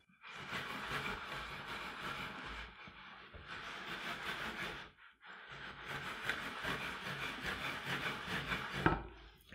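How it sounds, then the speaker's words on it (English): A wooden plank rubbed back and forth over a coiled Flemish flake rope mat, producing two long rough scraping passes with a short pause between them, close and fairly soft. "take a plank and rub it over the top of your flake to flatten it out."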